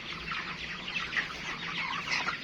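A crowd of Nourish chicks cheeps and peeps without pause, a dense chorus of high calls coming from close by over a low hum.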